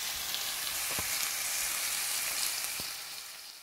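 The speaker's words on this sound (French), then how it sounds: "voici mes oignons, poivrons, en train de mijoter" Onions and peppers simmering with tomatoes in a pan for moussaka, a dense, even sizzle close by with a couple of soft knocks, fading slightly at the end.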